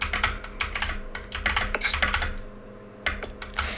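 Fast, forceful typing on a computer keyboard during a game produces dense bursts of close, loud key clacks, a short pause, then more hammering.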